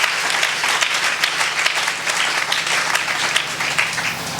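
A church congregation claps together in loud, dense applause, steady and sustained throughout, with a faint crowd murmur beneath.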